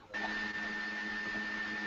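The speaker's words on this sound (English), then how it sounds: "You keep hearing that vacuum cleaner." A vacuum cleaner drones steadily in the background, a continuous motor whine with a sustained tonal hum that starts just after the beginning and runs unbroken to the end, with no talk over it.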